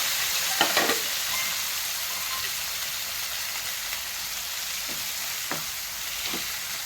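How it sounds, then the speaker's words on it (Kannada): Tomatoes and onions fry in hot oil for a potato korma, giving a loud, continuous close sizzle with a few brief stirring scrapes and no talking over it. "ಈಗ ಟಮಾಟೆ ಹಣ್ಣು ಮತ್ತು ಈರುಳ್ಳಿ ಇದೆಲ್ಲ ಹಾಕ್ಕೊಂಬಿಡೋದ್ರಿ. ಇದಕ್ಕನ ಫ್ರೈ ಮಾಡ್ಕೊಂಬಿಡೋದು."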